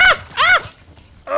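A dog gives two short, high whining whimpers close by, then a longer, lower whine after a brief pause, with no talking.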